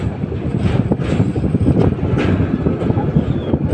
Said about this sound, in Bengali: লালমনি এক্সপ্রেস ট্রেনে যমুনা সেতু পার হচ্ছি।